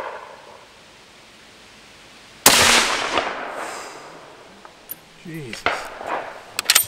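A Swiss Karabiner Model 1931 (K31) rifle fires at a shooting range: one sharp, loud report with a long fading echo, then a few smaller cracks and knocks, and a man briefly exclaims.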